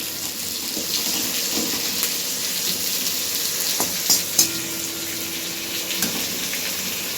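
Bay leaves and paneer fry together in a pan with a loud continuous sizzle and crackle, and a few clinks and stirring knocks rise above it.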